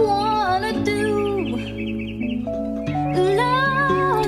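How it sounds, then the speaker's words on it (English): Bird-like clucking and chirping effects sit inside a 1970s song recording, warbling over sustained instrumental tones and harmonies, loud and up front in the mix. "The bird sounds do not add to the song."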